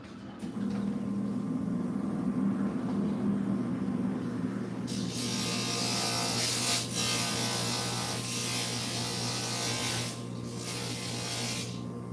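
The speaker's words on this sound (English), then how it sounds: "let me grind this one down" Small mosaic piece being ground down on a grinder, a steady continuous grinding whir that grows brighter and harsher partway through, with no talk.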